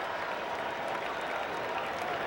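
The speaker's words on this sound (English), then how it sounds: "Listen to the crowd" A packed ballpark crowd roars steadily at a 1996 Phillies–Cubs game at Chicago for Sammy Sosa's home run, a dense, continuous wash of cheering and clapping at even loudness throughout.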